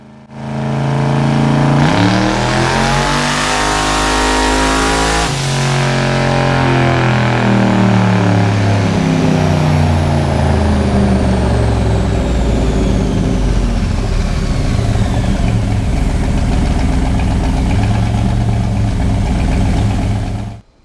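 Drag race car with a Powerglide transmission, running almost 700 horsepower to the tire on about 14 pounds of boost, revs loud and close, its engine note climbing and sweeping through gears over a sustained twenty-second run.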